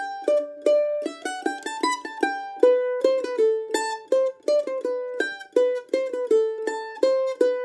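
Mandolin plays the lead part of Vivaldi's Concerto for Two Mandolins alone, a quick run of plucked, tremolo-like notes in short repeating phrases, clear and close for nearly eight seconds.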